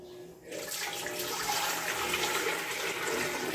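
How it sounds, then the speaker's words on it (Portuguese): Lake water poured through a clay filter makes a steady rushing, splashing trickle that starts abruptly after a short quiet moment and keeps flowing evenly up close. "O próximo processo é passar essa água pelo filtro de barro."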